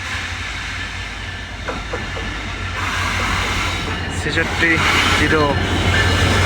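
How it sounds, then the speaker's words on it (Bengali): The Dhaka-bound intercity Panchagarh Express from Panchagarh rolls into Dinajpur railway station with a steady, heavy rumble that grows louder as the locomotive approaches, while someone speaks over it. "পঞ্চগড় থেকে ছেড়ে আসা ঢাকা অভিমুখী আন্তনগর পঞ্চগড় এক্সপ্রেস ট্রেনটি অল্প সময়ের মধ্যে দিনাজপুর রেলওয়ে স্টেশনে"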